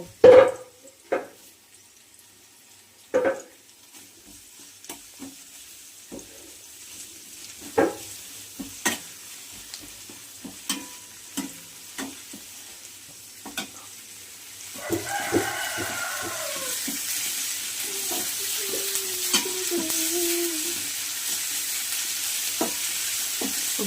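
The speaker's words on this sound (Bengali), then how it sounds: "আমি এই পেঁয়াজ, রসুন, শুকনো লঙ্কা ভাজা ভাজা হয়ে গিয়েছে" Onion, garlic paste and dried chillies fry in oil in a pan. A spoon clinks sharply as it stirs over a soft, steady sizzle, and a rooster crows in the background later on.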